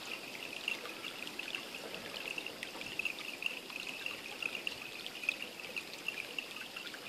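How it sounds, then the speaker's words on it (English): Water trickling and running down a stream at the bottom of a valley near Robertson, South Africa, a steady soft outdoor wash with faint bright splashy flecks, no voices. "Water coming down the stream at the bottom."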